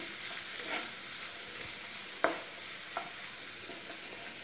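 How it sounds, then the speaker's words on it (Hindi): Chopped carrot and capsicum are stirred in a pan, giving a steady sizzle with a sharp spoon knock near the middle and a few lighter taps after it, close and with no voice. "इन वेजिटेबल्स को थोड़ा सा मिक्स कर लेते हैं।"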